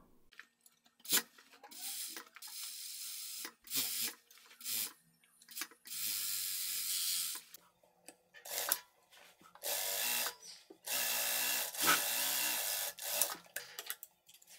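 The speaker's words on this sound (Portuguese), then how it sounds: "agora eu vou lá para a máquina overlock passar uma costura para fechar essa lateral" An overlock sewing machine closes the side seam of a long tailored vest in several bursts of fast, buzzing whirring, separated by short quiet pauses and small handling noises.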